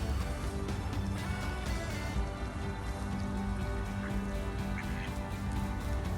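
Ducks quack softly now and then against a steady pattering wash of noise, like light rain falling outdoors.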